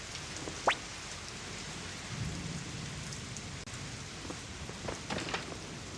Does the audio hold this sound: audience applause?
no